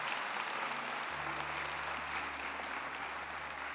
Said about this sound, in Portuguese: Dê uma salva de palmas ao Todo-Poderoso.